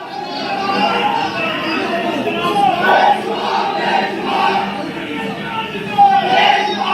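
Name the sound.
crowd chanting 'Imran Khan Zindabad' slogans in Sahiwal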